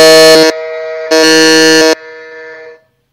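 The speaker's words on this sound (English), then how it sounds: "we have all the buzzers going on there, but Sanjana Bhatt was the first one to pres" Two loud, harsh electronic quiz buzzer blasts, each lasting under a second with a short gap between them, followed by a fading tone.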